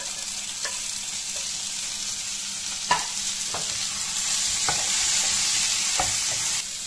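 Chopped tomato tipped into onions frying in a little oil for a pangash fish curry, giving a steady close sizzle with a few sharp stirring scrapes and clinks throughout, no voices.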